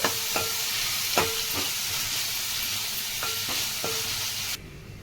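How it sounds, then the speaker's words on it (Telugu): Finely chopped tomato pieces fry in a pan with a steady soft sizzle, punctuated by several sharp spoon or spatula taps against the pan before the sound cuts off. "సన్నగా తరిగిన టమాటా ముక్కలు ఇవి బాగా ఫ్రై చేసుకున్నామండి"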